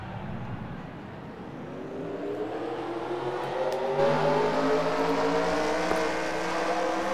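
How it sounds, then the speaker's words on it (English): Race car engines rev and build in pitch at the start of a NASCAR video game race at Homestead, a steady rising drone of many cars, loud and continuous with no talking. "Drivers, start your engines."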